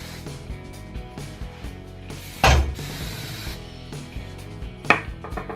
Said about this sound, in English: Okay, spray that.